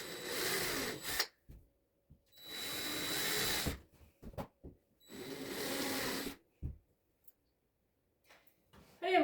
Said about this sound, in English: if I angle these screws up and I go in straight with the drill this way